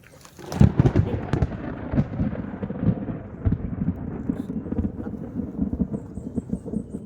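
Heavy rain pours down in a dense, steady roar with louder gusts and rumbling bursts throughout.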